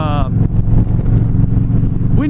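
A car engine drones steadily and then gives a quick upward blip at the end as the driver rev-matches a downshift, heard close and under continuous talking.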